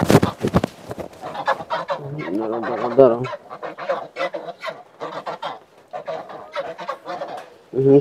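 Several loud, nasal honks from a sick goose up close, in irregular bursts with short pauses, some overlapping calls from other birds.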